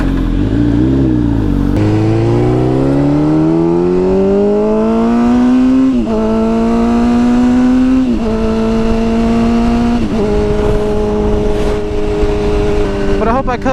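A motorcycle with a broken fairing revs loudly and close up, its engine note climbing steadily through several gear changes in a continuous drone.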